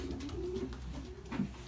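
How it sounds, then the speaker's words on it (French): Racing pigeon, a bird bought at a total auction from a Dutch loft, cooing softly in low repeated rolling notes, close and steady with no talk. "This is the pigeon from Leiderman we bought in the total auction"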